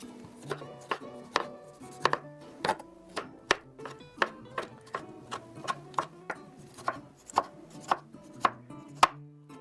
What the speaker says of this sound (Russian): Мелко режу 1 крупный помидор.